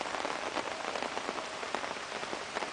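Steady rain patters on a log shelter outdoors, a dense continuous hiss of drops with scattered louder taps close by and no voices.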